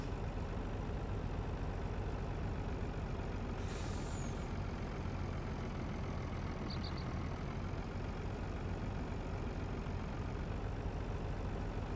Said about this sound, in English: I traded our truck out. We're gonna need something with some real power.